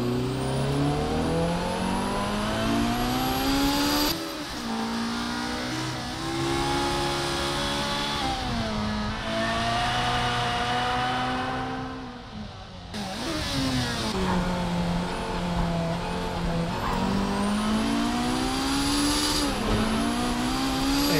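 A car engine in the racing video game Project CARS 3 revs hard through repeated gear changes, climbing and dropping in pitch, loud and steady with brief lifts off the throttle.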